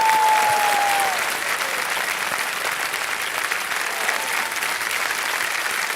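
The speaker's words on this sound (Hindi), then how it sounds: "तालियां बजती रहे एक बार इनके लिए जोर से।" Loud, continuous clapping from a crowd at a stage event celebrating a young woman, an even wash of many hands that holds steady for the whole stretch.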